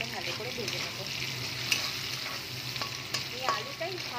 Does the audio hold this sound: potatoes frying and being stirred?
yes